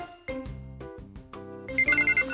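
A smartphone alarm rings at 5 a.m. with a repeating melodic ringtone of bright, clear notes, loud and close with no talking.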